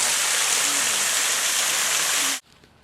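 A waterfall roars close by in a steady, loud, hissing wash of falling water that cuts off abruptly near the end, leaving near silence.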